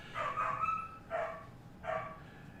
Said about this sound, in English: he's got a big bark, but it's kind of high and squeaky still